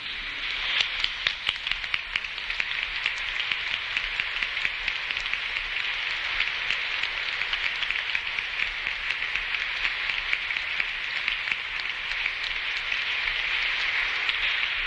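A church congregation applauds two organists after a Mass, a steady dense patter of many hands clapping that lasts throughout, even and moderately loud with no talking.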